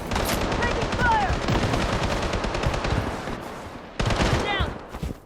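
Rapid automatic gunfire in the shooter game Blood Strike, with dense, loud bursts of shots filling most of the clip, a brief lull, then another burst near the end. Game voice callouts can be heard alongside.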